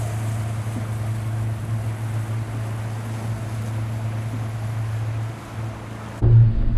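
A boat travelling across the open Laptev Sea, with a steady low engine drone and broadband water and wind wash running continuously, then a brief louder thump near the end.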